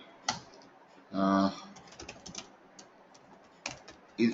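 Scattered computer keyboard clicks tapping at an uneven pace in a quiet room during an online class, with a short burst of voice early on.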